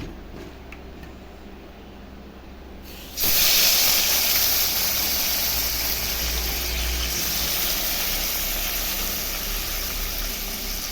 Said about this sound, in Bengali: তো মাছটা আমি ধুয়ে এনেছি, এখন ভেজে নিচ্ছি।